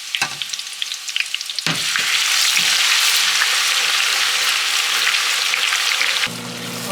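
Onion frying in a pan for Senegalese jollof rice, a loud close sizzle that swells after a few light clatters and holds steady, with occasional stirring scrapes, then drops away near the end to a quieter hum.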